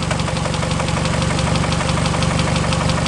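A steady, dense engine rod knock is heard close up through a screwdriver placed at cylinder four, a continuous rapid metallic tapping over the loud running engine.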